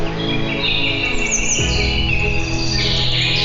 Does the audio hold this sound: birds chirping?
yes